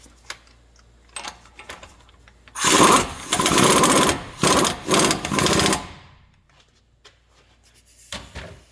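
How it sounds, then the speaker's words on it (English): An impact gun on a 2016 Dodge Grand Caravan front wheel hub rattles loudly for about three seconds in several short bursts, spinning in a bolt, with quiet workshop clicks before and after. "we can spin that in with the impact gun"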